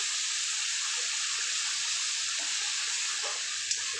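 Water pours into a pan of simmering fish curry cooked with spices in oil, making a steady, close hiss and rush that holds evenly throughout with no voices.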